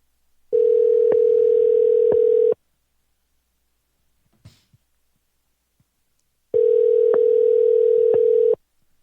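Telephone ringback tone while calling someone back, two loud steady two-second bursts separated by about four seconds of near silence with faint clicks.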